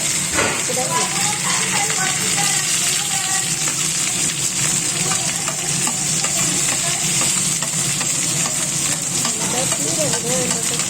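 Onions fry in a pan for masala rice, a continuous sizzle with repeated stirring scrapes. A person talks over the cooking throughout.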